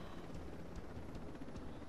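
Helicopter in a video game, a steady broadband rotor and engine roar holding at a constant level throughout with no talk over it.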